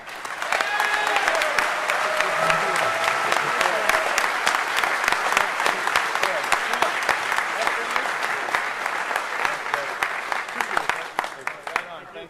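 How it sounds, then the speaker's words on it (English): A large audience applauds at the closing ceremonies of the DEF CON 20 hacking conference, with crisp individual claps in a sustained wash and a few voices and whoops mixed in before it tapers off. "Let's give them an incredible round of applause"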